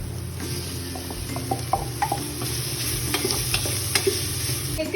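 Crushed ginger, garlic, green chilli, fennel and a large onion fry in a pan for a chicken curry, a steady sizzle broken by repeated scrapes and knocks of stirring.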